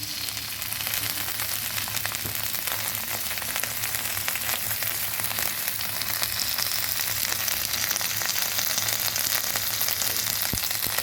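Ginger paste hits hot oil already holding fried onion, garlic and curry leaves for a mixed dal. It makes a loud, continuous frying hiss with dense crackle that holds steady for the whole stretch, with no speech.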